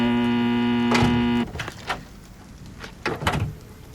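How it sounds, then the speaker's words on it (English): An electric door buzzer drones steadily for about a second and a half, then stops abruptly, followed by a door being pushed open with clunks, rattles and scraping. "Push the door when you hear the buzz."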